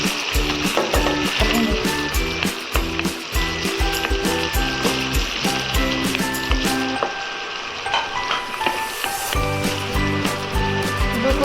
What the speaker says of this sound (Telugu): ఉల్లిపాయ పచ్చిమిరపకాయ గోల్డెన్ బ్రౌన్ వచ్చేంత వరకు వేయించుకోవాలి